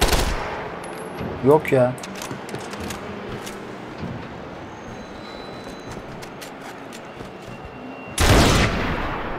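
Sniper gunfire in the video game Max Payne 3: a few sharp cracks and scattered impacts over a noisy battle backdrop, with a brief spoken exchange early on and a loud burst near the end.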